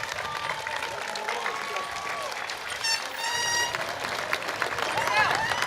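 Audience at a college undergraduate commencement ceremony applauds, a steady wash of clapping from a large crowd with a speaker's amplified voice over it and a few whistles.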